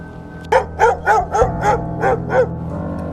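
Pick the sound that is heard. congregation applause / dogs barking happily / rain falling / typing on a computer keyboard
dogs barking happily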